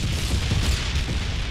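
A deep, rumbling grenade blast from the shooter game Killing Floor rolls through a short burst of low-end booming, loud and close, with no talking over it.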